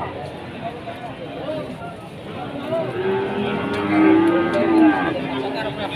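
Young cattle at Wirosari cattle market in Grobogan low and moo amid a crowded market din, with several drawn-out calls rising near the middle and end over steady background chatter.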